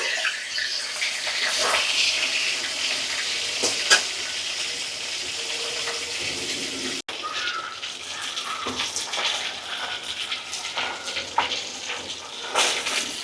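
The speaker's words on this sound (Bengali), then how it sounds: "তারপর আমি মাছটা ভেজে নেব" Fish fries in a pan of hot oil, giving a continuous hissing sizzle up close, with occasional louder spits and a brief break partway through.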